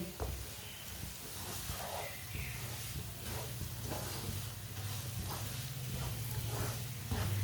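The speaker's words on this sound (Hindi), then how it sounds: "इसे जलने नहीं देना, ऐसे ही चम्मच चलाते हुए पकाना, भूनना सूजी को चम्मच चलाते हुए" Semolina roasting in a pan and stirred with a spoon for halwa, a steady close hiss and sizzle with faint scraping strokes of the spoon running through it.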